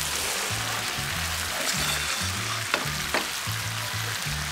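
Fish sizzles steadily in a pan with tomato sauce, basil and chili, a loud continuous fry close up with occasional stirring scrapes.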